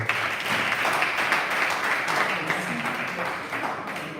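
Audience applause at a science and mathematics olympiad final, a steady wash of many hands clapping at moderate level throughout, with faint voices mixed in.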